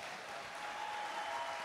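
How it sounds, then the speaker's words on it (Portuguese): A crowd at a Brazilian Catholic perpetual-adoration gathering claps together in steady, dense applause, fairly soft and sustained for a moment without voices over it. "Dá uma salva de palmas para Jesus."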